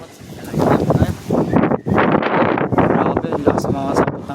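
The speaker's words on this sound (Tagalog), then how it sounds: "ang lakas mga sapot ng hangin dito" Strong wind buffets the microphone in loud, gusty bursts, with a voice talking over the rushing noise.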